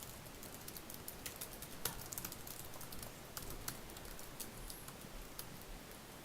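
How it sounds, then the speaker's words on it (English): Quiet, steady typing on a MacBook laptop keyboard, soft rapid key clicks with a few sharper taps, continuing alone without any talk. "I'm going to type some more text here."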